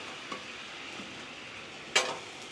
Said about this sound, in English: as the liquid hits the hot spots on the griddle, it just kind of bubbles up and evaporates